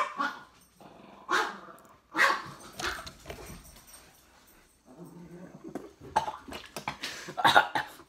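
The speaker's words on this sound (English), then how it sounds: "excuse my dog, hyperventilating in the back." A dog in the background makes a string of harsh, huffing barks and panting bursts, irregularly spaced and moderately loud, with quiet gaps between them.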